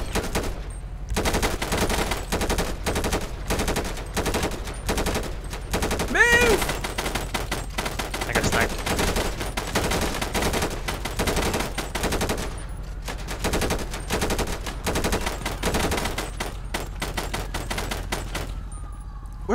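Automatic gunfire in the video game GTA 5 crackles in rapid, sustained bursts of loud close shots, with brief gaps and a few scattered single shots.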